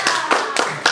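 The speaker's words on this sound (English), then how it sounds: "Guys, give him another clap." Four distinct bursts of hand clapping from a small birthday party audience for a magic show helper, close and fairly loud, spaced evenly within about a second.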